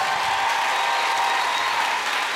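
A live comedy-show audience breaks into dense, loud applause that holds steady throughout, with a faint crowd murmur mixed in and no voices over it.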